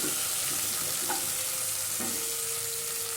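Taro root (arbi) frying in a pan for a curry without onion or garlic, a dense, even sizzle that continues steadily throughout with faint clinks in the background.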